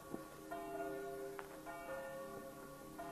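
Church bell ringing at New Year's midnight at Skansen, Stockholm, with sustained metallic tones and lingering overtones, somewhat distant and faint against the outdoor ambience, and no talk.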